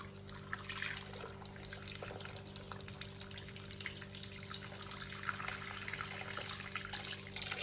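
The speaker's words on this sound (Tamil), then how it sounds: "இதை நாங்கள் இந்த சட்டிக்குள்ள போட்டு அளவாக தண்ணி விட்டு அவிய விட போகிறோம்." Water runs steadily into a cooking pot holding peeled cassava set to boil, a continuous splashing trickle heard close up for several seconds with a faint hum underneath and no talking.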